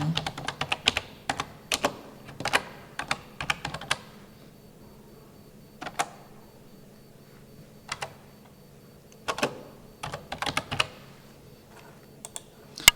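Someone types on a computer keyboard, entering a title into a presentation slide, with irregular clusters of crisp close key clicks broken by short pauses, fairly quiet and with no speech.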